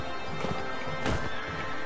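Horse neighing in the Mount and Blade Warband video game: a single loud whinny swelling near the middle of a short stretch, set over steady game background noise, with no talk.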